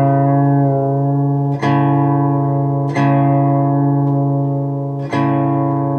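A guitar chord with the fourth string detuned lower is strummed three times. Each strum rings out loud and sustained with a bright attack and slow decay. No voices.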